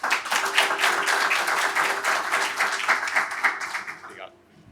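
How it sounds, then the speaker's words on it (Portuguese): A conference audience claps warmly to welcome a speaker, a loud, dense burst of clapping that holds steady and then quickly dies away. "Vamos recebê-lo com uma forte salva de palmas."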